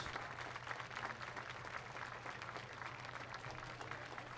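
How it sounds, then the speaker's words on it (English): A baseball crowd at a Kenosha Kingfish game claps steadily while an injured fan is carried out, a faint, distant, continuous patter of applause across the stands. "as the fans clap as"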